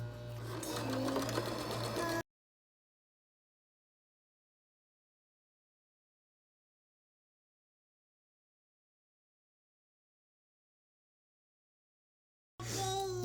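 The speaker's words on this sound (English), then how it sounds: "you're going to go along the edge here all the way to the end and make sure you do a back stitch as well" A sewing machine stitches along the edge of reusable period product liners, a steady mechanical whirr for about two seconds, then a long silence before the stitching resumes briefly at the end.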